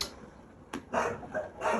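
A street dog gives a few short, sharp barks in quick succession, fairly near and moderately loud against a quiet background.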